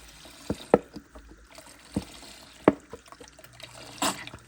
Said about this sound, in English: Now you're gonna put the rest of your can of beef stock in.